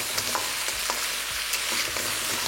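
Crab pieces frying in a small amount of oil, a steady dense sizzle throughout with occasional soft stirring scrapes, close and continuous with no talking.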